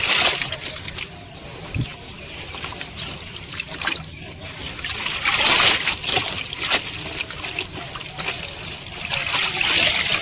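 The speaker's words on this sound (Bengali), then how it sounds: "ঠিক একইভাবে এটাকেও আমি ধুয়ে নিলাম" An old water lily plant and its tuber being rinsed by hand, close trickling and dribbling water with irregular splashes and sloshes that swell and fade over about ten seconds.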